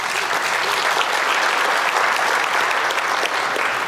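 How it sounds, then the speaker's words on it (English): A convention audience breaks into dense, sustained applause that holds at full strength throughout, with no voices standing out above it. "Give me a round of applause for that."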